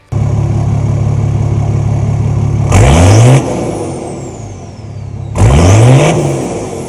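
A Nissan TD42 diesel engine in a 4WD idles with a low, steady rumble, then is revved hard twice. Each surge rises sharply and falls back to idle, loud and close.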